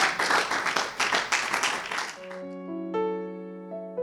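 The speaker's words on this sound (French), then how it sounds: "Acclamons très très fort pour le Seigneur." A church congregation applauding, a dense burst of clapping that fades out after about two seconds as sustained organ or keyboard tones take over.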